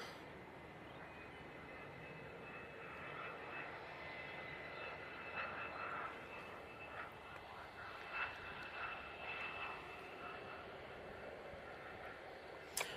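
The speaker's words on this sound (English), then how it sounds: "Next out, we've got the Jet2 A321neo." Jet2 Airbus A321neo jet airliner at Manchester Airport, a distant, faint, steady engine roar that swells gently, with voices heard softly over it.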